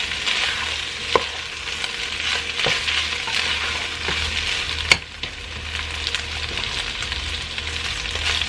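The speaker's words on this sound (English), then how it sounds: "I'm going to saute that in there with the meat for a minute" Bell pepper sizzles with meat in a hot pan during a steady sauté for bistec ranchero. Constant frying hiss runs throughout, broken by a few sharp clicks of a utensil stirring against the pan.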